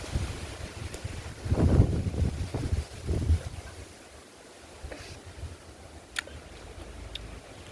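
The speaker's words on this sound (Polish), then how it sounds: "mega jest wiatr duży i mega są duże fale" Gusty wind buffets the microphone with low rumbling bursts beside a sea with big waves, strongest early on, then settles into a steady outdoor rush with a few faint clicks.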